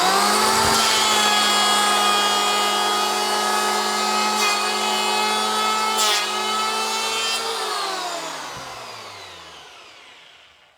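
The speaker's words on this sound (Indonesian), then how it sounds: "kita serut dengan tekanan normal ya, seperti kita nyerut kayu biasa" An electric hand planer fitted with a Blackfoot K40 blade shaves wood under normal pressure, giving a loud, steady high whine with a brief cutting bump, then spinning down and fading to silence near the end.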